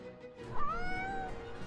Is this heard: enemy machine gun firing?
no